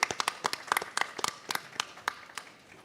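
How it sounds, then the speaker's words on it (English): A small group claps for a few seconds, sparse uneven hand claps that thin out toward the end, fairly quiet and with no talking. "A big round of applause."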